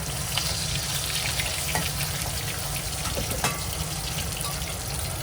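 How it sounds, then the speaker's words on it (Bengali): Pieces of hilsa fish sizzle in hot oil near the end of frying. The steady crackling hiss is broken by a few sharper pops and spatters, with no talking. "দেখো আমার মাছটা মোটামুটি ভাজা হয়ে গেছে,"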